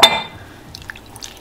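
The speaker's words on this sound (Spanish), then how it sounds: "le voy a quitar esta agua" Soaking water is poured off dried salted fish in a kitchen: a short splashing pour at the start, then faint scattered drips and light clinks of the dish in near quiet.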